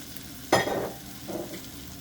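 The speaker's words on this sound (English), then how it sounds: "So in here now we're going to add the sliced mushrooms" Sliced mushrooms and fresh parsley for chicken marsala hit a hot pan with a sudden loud sizzling burst, fading over a second before a softer second sizzle flares up; no voices.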